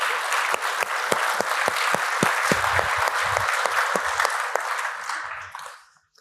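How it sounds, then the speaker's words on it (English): An audience at a biomedical research panel session applauds the panelists, a steady round of clapping with a few sharp individual claps standing out, fading away at the end. "Give them a round of applause."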